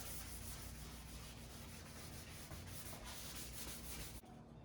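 A 220-grit sanding block worked over a plastic headlight lens, a continuous dry hissing rasp at steady pace, close and quiet, ending abruptly.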